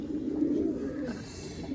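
Pigeons give low, throaty coos close by, one rolling call followed by softer murmuring, with a faint chirp near the start and little else around.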